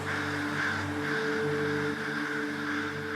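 Harsh, repeated crow caws scolding in a steady, loud chorus over a constant low background hum.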